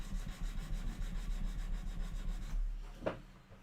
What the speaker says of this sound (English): Good old hand sanding.